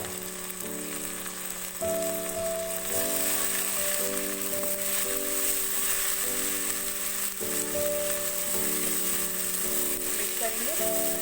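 Garlic-ginger paste sizzles in hot oil with potatoes for tahari, a steady crackling fry that runs throughout beneath a soft musical tone.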